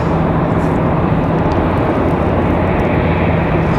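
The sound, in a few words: Bombardier Challenger 300 private jet landing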